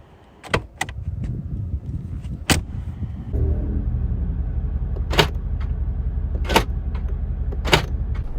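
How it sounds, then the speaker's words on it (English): Several sharp mechanical clunks of a 2021 Mercedes-AMG G63's door locks actuating, spaced a second or so apart over a low idling engine rumble. "the sound of these doors shutting, the sound of the locks unlocking and locking"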